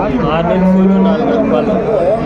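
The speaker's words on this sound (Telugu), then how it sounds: "ఇక్కడ కూడా మనకు ఒకటి ఓలిస్టన్ బ్రీడ్ ఆవు అయితే ఉంది" Holstein cow mooing at a busy cattle market, a single drawn-out low moo standing out over a steady background of crowd chatter and other livestock.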